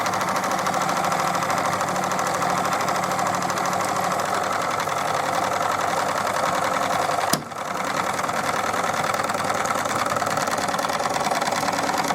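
A Wilesco D24 steam engine fitted with a D21 feed pump runs steadily, a continuous fast mechanical clatter and hum with one brief sharp tick partway through, close and without talk.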